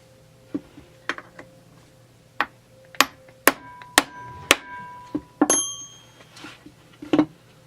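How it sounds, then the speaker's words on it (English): Sharp metallic taps on the screws of a Husqvarna 394XP/395XP chainsaw clutch cover, a dozen or so bright clinking strikes spaced irregularly, some ringing briefly, close and clear against a quiet background hum. "you unscrew them a little bit, and then you tap on them"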